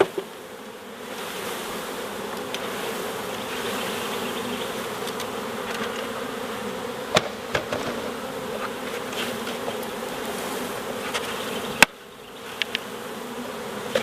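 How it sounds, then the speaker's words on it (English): A package of honeybees being installed into a hive, a dense continuous buzz close by, with a few sharp taps and bumps on the box and a brief dip near the end. "let these bees that are in here work their way into the hive."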